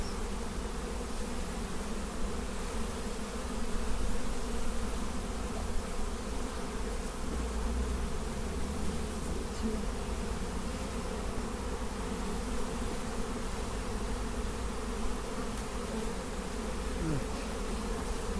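Honeybees hum at a drone-laying colony hive, a steady, dense buzz that continues unbroken throughout, with no talking.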